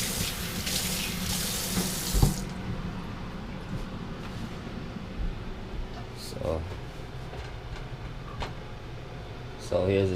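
A kitchen tap runs steadily as a pot is rinsed out during cooking, giving a broad watery hiss that is strongest in the opening seconds and then fades to a softer background flow under occasional handling noises.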